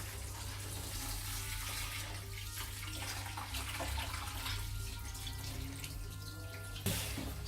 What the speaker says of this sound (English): And then I'm going to cover them with water.